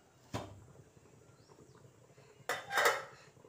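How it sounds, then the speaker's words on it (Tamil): A metal puttu steamer has its cloth and lid lifted off, with two close clanks of metal on metal, the second longer and scraping, against a quiet background. "இந்த துணியெல்லாம் எடுத்துட்டு மூடி இருக்கிறத எடுத்துட்டு பாருங்கள்"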